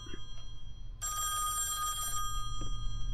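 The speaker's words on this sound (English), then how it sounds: "The phone." Telephone ringing in the horror video game Song of Horror, one long electronic bell ring that starts and stops sharply against a quiet, low ambient hum.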